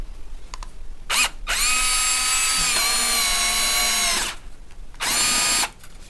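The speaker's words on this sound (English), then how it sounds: "Oh, my drill's slipping." A power drill used for auto body work whines loudly in sustained bursts, one short blip, then a long steady run that dips slightly in pitch, a pause, and another short burst, with no talk.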